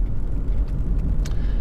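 A Lexus IS 250 with a 2.5 engine, fully warmed up, idling with a steady low rumble heard close by, alone for a brief moment.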